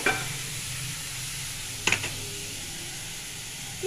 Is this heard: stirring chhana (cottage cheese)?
yes